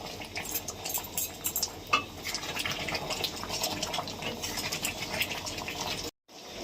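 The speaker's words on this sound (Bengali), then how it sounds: "এখন ঘুটে দিচ্ছি।" A spoon stirs and mashes ghugni, a spiced dried-pea curry, in a pan, with a steady run of soft scraping, wet squelching and clinks, heard close and without talk.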